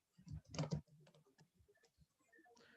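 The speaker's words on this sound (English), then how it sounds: "I should not have been typing everything" Computer keyboard typing during a programming session, a quick cluster of loud close keystrokes followed by softer, scattered taps, with no talking.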